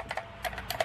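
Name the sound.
pressing keys on Rapoo V550 mechanical keyboard, deep sound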